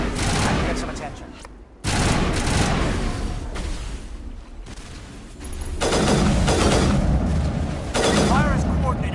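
Heavy gunfire and explosions fill a firefight in the video game Mass Effect, loud sustained bursts with booming impacts that drop out briefly and then resume.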